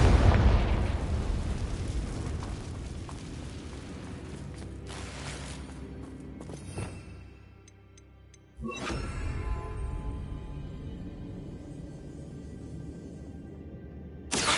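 Bombarda and Confringo spell explosions in the video game Hogwarts Legacy: loud booming blasts with rumbling debris, a sharp burst near the middle after a brief lull, then continued crackling rumble.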